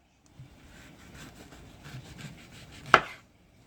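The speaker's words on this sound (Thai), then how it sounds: "เราก็เอามะกรูดมานะคะ แล้วก็หั่นเอาแต่ ผิว มัน ค่ะ" A knife scrapes and slices steadily across firm kaffir lime peel with soft rasping strokes, ending in one sharper cut against the board.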